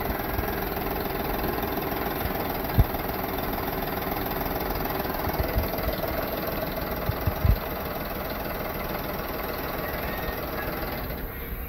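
A 1998 Ford Expedition engine with 146,000 miles runs at a steady idle, a continuous close rumble with faint knocks and a couple of louder clunks, and no talking.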